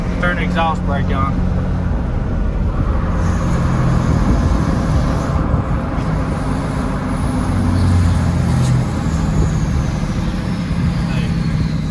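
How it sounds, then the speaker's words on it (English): A truck's diesel engine runs loud and close with the exhaust brake on, a continuous low rumble with rough fluctuations and no clear pauses. "Turn the exhaust brake on."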